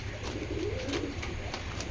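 Soft, repeated cooing of a racing pigeon settled for the night close by, a low throaty burble over faint background noise.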